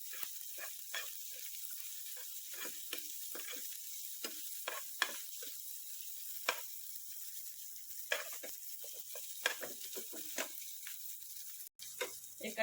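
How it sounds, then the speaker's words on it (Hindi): Finely chopped onion hits a hot pan with a steady, close sizzle and frying hiss, broken by short crackling bursts and stirring scrapes while the oil keeps spitting, with no voices. "इसके बाद एक कटी हुई प्याज ऐड करेंगे।"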